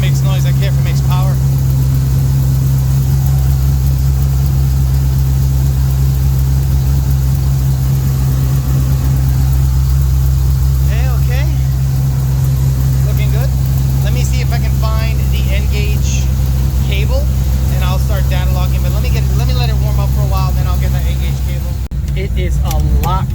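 A 2014 Ford GT500 with a 2.6 TVS supercharger and a leaking header idles steadily with a deep, loud, constant rumble while someone talks over it.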